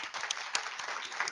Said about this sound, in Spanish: Así que, por favor, repitamos el aplauso para él.